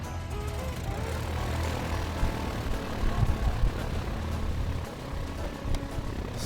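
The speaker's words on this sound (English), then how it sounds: "we're gonna start the engine" A Piper Warrior light aircraft engine runs steadily after starting, its propeller drone a continuous low rumble heard from close by, with slight swells in level and some faint speech mixed in.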